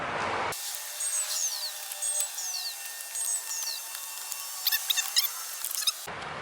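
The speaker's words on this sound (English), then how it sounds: "go ahead and take those 3 screws out with the Phillips" Squeaky chirps and faint metallic ticks as a Phillips screwdriver backs screws out of a car's gauge cluster, in a few short turning bursts in a quiet setting with no talk.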